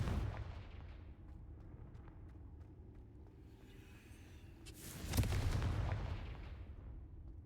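A Confringo fire-blast spell in the video game Hogwarts Legacy goes off as a loud, booming explosive burst partway through, rising out of a steady rumbling game soundscape and tailing off over a couple of seconds.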